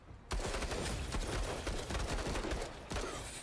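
Loud, dense automatic gunfire in the video game Menace opens abruptly after a short quiet moment and keeps up in rapid bursts.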